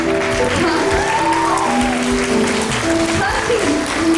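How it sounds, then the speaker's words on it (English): A crowd claps and cheers for two birthday girls at their party. The applause is loud and continuous, with voices and some tonal music-like sounds mixed underneath. "A big round of applause for them."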